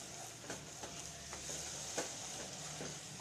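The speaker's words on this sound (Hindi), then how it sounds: "इसे भी मिक्स करेंगे।" A pan of chicken masala with lemon juice is stirred over steady sizzling, with soft spoon scrapes recurring about every half second and no talking.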